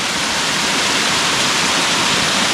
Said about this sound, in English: These root systems, a couple little waterfalls coming down right here.